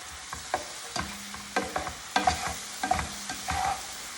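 Cauliflower rice and shrimp sizzle in a stir fry as a utensil stirs, with steady frying hiss broken by repeated scraping clacks and brief tonal squeaks, close and fairly loud.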